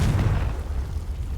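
A Confringo fire spell in Hogwarts Legacy bursts in a single short, deep boom that rumbles off quickly.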